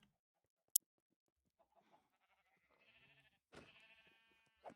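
A sheep in Minecraft with the StoneBlock 4 modpack, giving a couple of short, fairly quiet wavering bleats against near silence, after a brief click.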